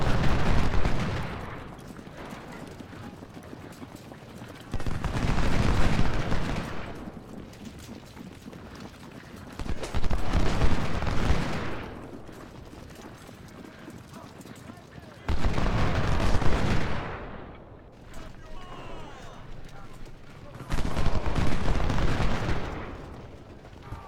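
Gunfire and artillery bursts from the Civil War video game Ultimate General: Civil War come in repeated loud volleys about every five seconds, with quieter battle noise between them and someone talking.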